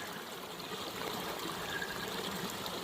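A creek flows along a hiking trail, a steady broadband rush of running water filling the whole stretch, close and continuous with a slight swell toward the end, no voices present.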